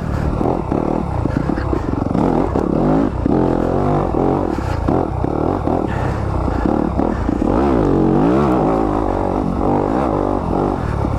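A 2020 Yamaha YZ250FX 250 dirt bike engine revs and pulls hard through the gears, loud and close, with steady harmonic drone, rising pitch sweeps and some clattering, continuous throughout.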